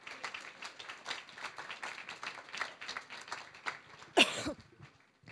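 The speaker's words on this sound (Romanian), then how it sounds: "vreau să mă ajutați cu niște aplauze," Applause from a conference audience at a business event in Oradea, a dense wash of many hands clapping that stays steady, then swells with a sharp louder burst near the end before fading.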